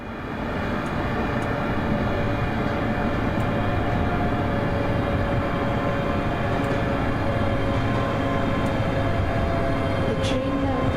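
A train running on a Scottish line toward Alloa, a continuous steady rumble and hum from inside the carriage, with faint clicks and squeaks, no voices.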